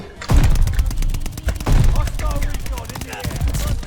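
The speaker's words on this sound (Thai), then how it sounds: "ยิงไปเลยนะครับผมยิงไปเลย" Rapid gunfire bursts in a video game shooter rattle in quick succession, loud and close, with repeated sharp shots through most of the stretch and someone talking over them.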